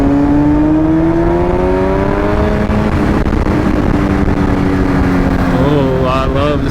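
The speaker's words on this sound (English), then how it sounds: "Oh, I love the sound of my motor." A motorcycle engine hums loud and close while riding on a city street, its pitch rising and falling as the rider works the throttle, then climbing again near the end.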